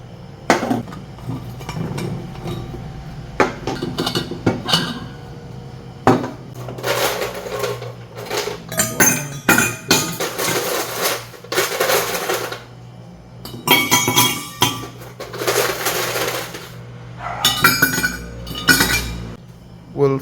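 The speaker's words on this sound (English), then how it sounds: "We'll fill them up with approximately the same number of ice cubes, okay?" Ice cubes clatter and clink into insulated water bottles in repeated bursts, with sharp hard knocks and rattles loud and close, separated by brief pauses.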